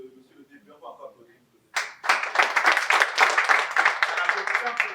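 A speaker's voice at an anniversary event stops, and after a short pause the audience breaks into loud, sustained applause, many hands clapping densely and evenly to the end.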